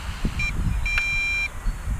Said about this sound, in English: the transmitter is also beeping, so we got a voltage warning on our transmitter